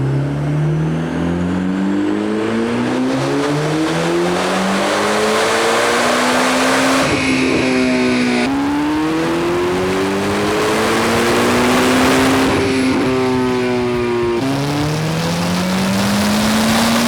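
A tuned Chevrolet Corvette C8 ZR1 engine screams through repeated full-throttle pulls on a dyno, pitch sweeping upward through each gear with brief drops at the shifts, loud and close throughout.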